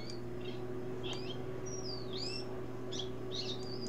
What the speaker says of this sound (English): Ooh, she found a bird.